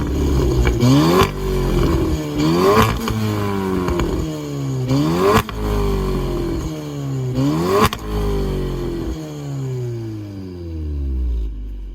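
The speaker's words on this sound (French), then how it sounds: "Je vais mettre le mode Cupra. Je vais mettre 2-3 coups là." A warm Cupra car engine in Cupra mode is revved several times in a row. Each rev rises sharply, is loud and close, and falls back to idle before the engine settles into a quieter fade at the end.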